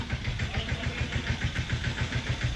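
A tractor engine runs on a farm during tomato planting, a steady close idle with an even, rhythmic low chugging throughout.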